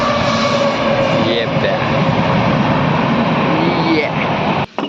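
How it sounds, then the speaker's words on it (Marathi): A passing train roars continuously and loudly close by, a broad rushing rumble with faint squeals that holds steady before cutting off abruptly near the end. "ट्रेन दिसत असेल तुम्हाला"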